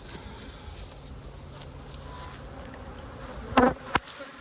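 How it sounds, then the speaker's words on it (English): Many bees drone around a hive in a dense, continuous buzz, with a couple of louder passes as individual bees fly close near the end. "It's a lot of bees."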